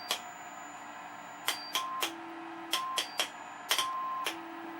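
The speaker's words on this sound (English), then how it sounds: "you can hear that tone in the background." A faint, steady test tone plays through the speaker of a restored Admiral 30A15 television set, with a few sharp clicks scattered over it.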